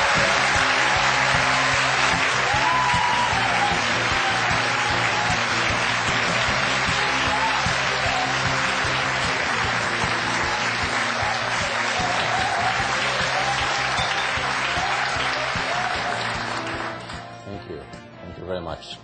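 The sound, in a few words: audience applause welcoming a speaker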